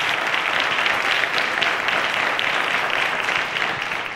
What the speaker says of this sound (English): Let's encourage him with a round of applause, guys